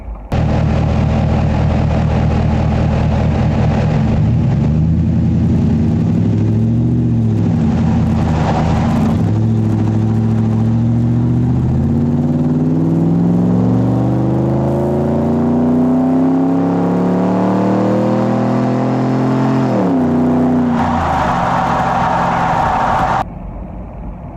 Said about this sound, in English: Let's let you hear what that sounded like out the back of the truck.